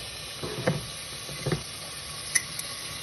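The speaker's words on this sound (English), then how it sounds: "as you can see, the mushrooms and garlic are cooking nicely" Mushrooms and garlic frying in a pan, a steady low sizzle with a few faint ticks and pops and no voices.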